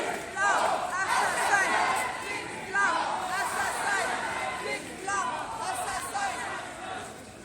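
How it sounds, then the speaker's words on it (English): Protest crowd against a police killing chanting a repeated slogan in rhythmic bursts, many voices shouting together at moderate distance with continuous crowd hubbub between phrases. "now we hear the recurring chant, "Cops, not assassins," coming from the crowd."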